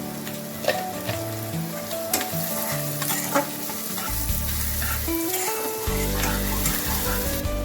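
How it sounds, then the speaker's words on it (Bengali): Chopped cabbage, carrot and capsicum with salt stir-fry in a hot pan for soya chow mein, a loud continuous sizzle punctuated by scraping stirs and utensil knocks. "সবজিগুলোকে ভালো করে ভাজা ভাজা মতো হয়ে গেছে"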